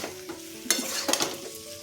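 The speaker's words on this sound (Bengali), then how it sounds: "কাসুরি মেথিটা খুব ভালোভাবে মিশিয়ে নিচ্ছি" Kasuri methi is stirred into a pumpkin curry in a pan, with a soft simmering sizzle and a few brisk scraping strokes of a spoon, close and short, no voices.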